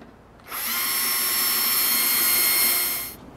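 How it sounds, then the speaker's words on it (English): A power drill drilling pilot holes in a cabinet door whines steadily at high speed for almost three seconds, starting and stopping abruptly, close and loud. "And then we will begin to drill our pilot holes."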